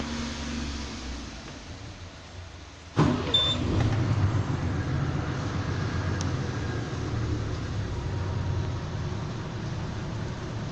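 An Ashok Leyland 1618 BS IV haulage truck in neutral: a quiet hum, then the diesel engine starts with an abrupt burst about three seconds in and settles into a steady, rumbling idle, with no talk.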